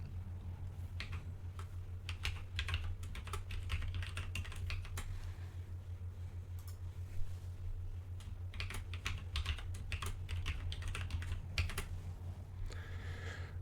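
Quick bursts of clicks from a computer keyboard as a password is typed while setting up a virtual machine, steady close-up keystrokes in uneven runs over a low constant hum, with no talking.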